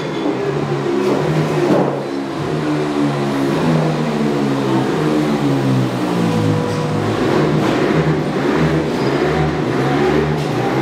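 A TM Racing 112cc two-stroke motorcycle engine revs continuously and loudly at close range, its pitch climbing and falling through repeated throttle blips with no talking over it.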